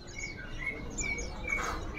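Zebra doves chirp and trill in a bird shop, with several short high calls repeating close by over a low background murmur.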